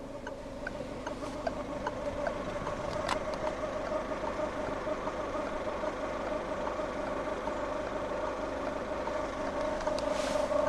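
A 2019 Peugeot 308 SW estate's 1.5 BlueHDi 130 diesel engine idles with a steady low hum and a faint ticking clatter, constant and moderately close, with no talking.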